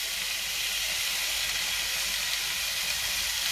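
Minced meat with spices cooks in a pan, giving a constant, even, hissing sizzle close up with no pauses.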